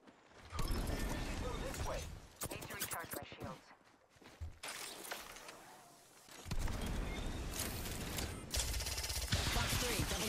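Covering gunfire in Apex Legends, with rapid mechanical bursts and clattering shots mixed with dense game sounds and a voice speaking over the action.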